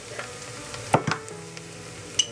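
Grated ginger and minced garlic hit a hot pan of browned ingredients for moong masoor dal, giving a soft steady sizzle with a few sharp stirring scrapes and clicks near the middle and end.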